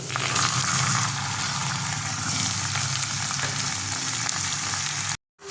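Chicken marinated with turmeric, salt and mustard oil frying with spices in a pan, a loud, dense and continuous close sizzle that cuts off abruptly near the end.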